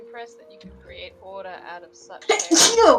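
A single sharp sneeze bursts out loudly at the end during a casual online UNO game chat, following a stretch of people talking.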